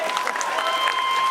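Audience applause after a comedy act by Bryan Callen, a short burst of dense clapping from a crowd with a faint tone running through it.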